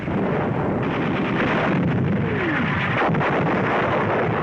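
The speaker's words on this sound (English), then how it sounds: "A direct hit on an enemy 88mm gun position." A heavy artillery shell strikes an enemy 88mm gun position in North Africa, a loud, dense roar of blast and rumble that fills the whole stretch.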